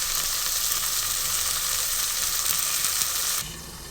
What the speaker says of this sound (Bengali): আমি ভেন্ডিটা ভালো মতন লালচে করে ভেজে নেবো